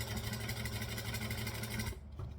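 A sewing machine stitching around a zipper at size 4 stitch length runs with a steady, close mechanical whir and rapid needle rhythm, then stops abruptly near the end.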